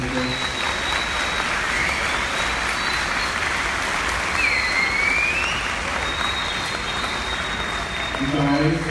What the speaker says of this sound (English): Let's give another round of applause to these amazing people.